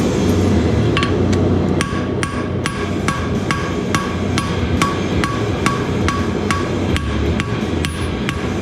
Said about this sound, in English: just striking in the center, trying to move the material to the outsides